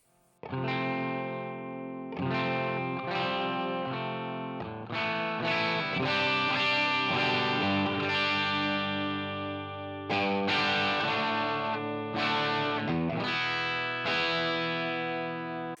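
Bright, shimmering clean electric guitar chords through an HX Stomp, strummed and left to ring, with several new strums over a sustained, sparkling tone.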